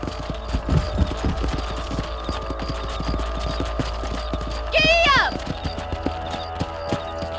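Horse hooves clip-clopping in the Red Dead Redemption video game, a steady rhythmic trot of hoofbeats throughout, with a brief whinny-like burst near the middle and a low background hum.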